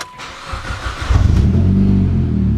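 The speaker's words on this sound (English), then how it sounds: "So jump in the car, we'll start it up." A car engine cranks briefly and catches, settling into a loud, close, steady idle with low rumbling throughout the rest of the moment.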